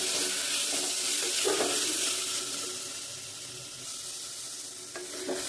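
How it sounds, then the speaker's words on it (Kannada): Tomatoes frying in a pan while being stirred for pudina bath, a continuous bright hiss of sizzling with occasional soft spoon scrapes, close and steady, no talking. "ಟೊಮೊಟೊ ಸ್ವಲ್ಪ ಒಂದು ಅರ್ಧ ಬೇಯೋದ್ರಷ್ಟು ಫ್ರೈ ಮಾಡಬೇಕು ಇದನ್ನು"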